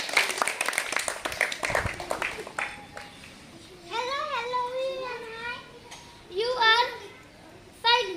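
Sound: children clapping

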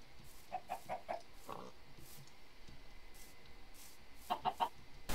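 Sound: chickens clucking in a video game

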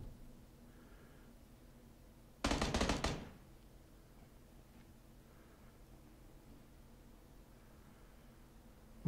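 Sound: gunshots in PUBG video game

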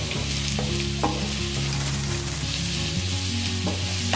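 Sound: mushrooms frying and being stirred in a pan

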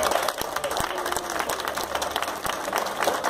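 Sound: crowd applause at samba party

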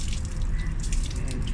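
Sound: water rinsing a car wheel after cleaner

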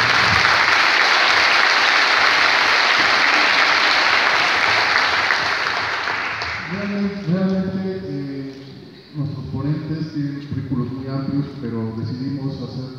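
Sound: audience applause

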